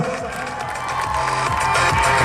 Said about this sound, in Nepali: थपडी मारिदिनुहोस् न